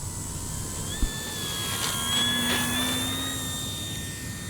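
A DuraFly Supermarine Spitfire Mk2a, a WWII-fighter RC model plane in EPO foam with a 1100 mm wingspan, takes off with a steady electric whine that rises and shifts in pitch, a single thump near the start, over outdoor wind noise.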